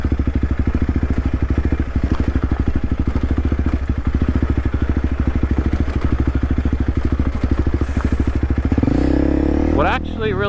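A dual sport motorcycle thumps along a rutted dirt trail with a steady, close engine beat and rattling clatter, then the note changes near the end as a voice briefly cuts in.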